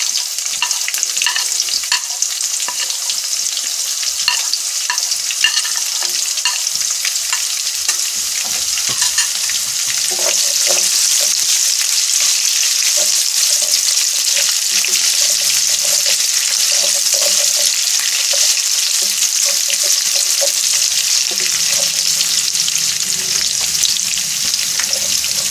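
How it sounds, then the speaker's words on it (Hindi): Chopped onions sizzle loudly in hot oil with nigella and fenugreek seeds, a dense, continuous frying hiss close up that swells and stays steady, with occasional light scrapes and no voices. "ऑयल गरम हो गया है, प्याज डालते हैं। और ये कलौंजी मेथी दाना,"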